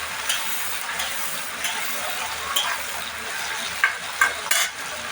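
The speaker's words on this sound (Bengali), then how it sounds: "টমেটো কুচি দিয়ে দিলাম। এটাকে ভালো করে মেল্ট করতে হবে, এটাকে নেড়ে ভালো করে মেল্ট করতে হবে।" Chopped tomatoes stirred and cooked down in a pan until they melt. A continuous close sizzle mixes with scraping from stirring and a few sharper clinks near the end. A faint voice may be present underneath.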